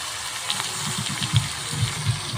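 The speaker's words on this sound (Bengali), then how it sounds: "এবার বাটি ধুয়ে রাখা জলটা আমি এর মধ্যে দিয়ে দিলাম" Rinse water from the marinade bowl splashes into chicken cooking for doi chicken, low gurgling pulses and a few soft clinks up close, fairly quiet and without talking.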